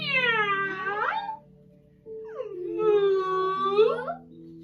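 A human voice imitates a cat with two long, drawn-out meows separated by a short pause, close and clear over faint background hum during a kids yoga session.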